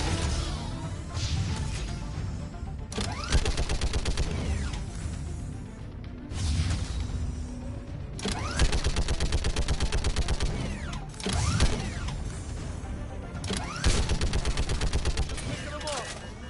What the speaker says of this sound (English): time to use a big gun